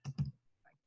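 A few quick keyboard taps on a computer keyboard, two close clustered clicks followed by a softer, fainter pair, short and isolated with no talk.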